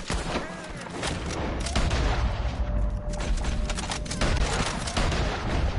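Heavy battle gunfire and cannon blasts from the Red Dead Redemption 2 video game, a dense continuous fusillade of rifle shots with deep booms running throughout, loud and close.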